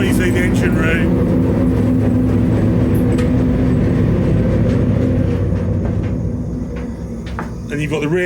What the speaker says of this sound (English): Noisy, the engine room.